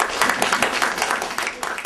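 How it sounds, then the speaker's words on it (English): An audience claps steadily throughout a short stretch of applause at a school event, with a broadband, crowded patter that stays fairly loud and even. "Can we give her a clap?"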